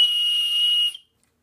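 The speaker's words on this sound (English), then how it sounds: "Also has a whistle, which is a nice feature for an emergency" A small emergency whistle built into a Sharpal 6-in-1 sharpener tool gives one steady, shrill, piercing blast close by, held for nearly a second before cutting off sharply into silence.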